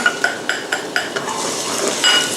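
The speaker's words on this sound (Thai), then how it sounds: "ทีนี้เราเติมน้ำมันถั่วเหลืองลงไปค่ะ ตามด้วยกระเทียมนะคะ" Garlic sizzles in soybean oil in a pan as a spatula taps and scrapes rhythmically against the metal, close and fairly loud.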